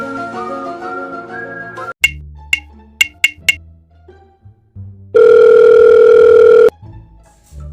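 A phone call rings out unanswered: a few short electronic beeps, then a loud sustained ringback tone, with no one picking up.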